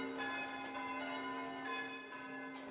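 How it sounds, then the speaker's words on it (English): A peal of church bells in the village-building game Foundation sustains rich, ringing overlapping tones with fresh strikes layered in, steady and fairly loud, with no speech. "and look at all the bells"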